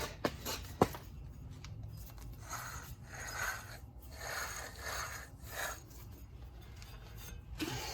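A front wheel bearing on a 2010 Camaro with the 3.6 engine spun by hand, giving a close, continuous gritty rasp and rumble that swells and fades with a few sharp clicks, no talking over it.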